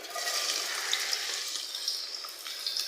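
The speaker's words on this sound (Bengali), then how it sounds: "তেল গরম হয়ে গেছে, দিয়ে দেবো পেঁয়াজ কুচি" Chopped onion sizzles in hot oil in a kadai, a steady bright frying hiss with small crackles and pops, close and continuous with no talking.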